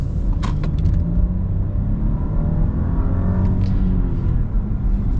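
An Audi A8 luxury car accelerates in a steady, loud low rumble heard from inside the cabin, the engine note climbing smoothly without a break.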